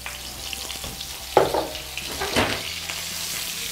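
Eggplant, onion and carrots frying in a pan, a steady sizzle with a couple of louder bursts as the vegetables go in and are tossed, close by.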